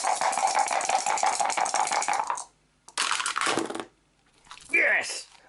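Dice rattle and tumble for a gunfire attack roll in a zombie board game, with two bursts of clattering close by, a short pause between, and a brief excited voice at the end.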